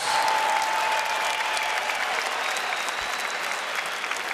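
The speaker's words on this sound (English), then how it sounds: "may we please have a round of applause for these 2" A large arena crowd applauds two boxers at the end of a bout, dense steady clapping and cheering that carries on without pause, loud and continuous.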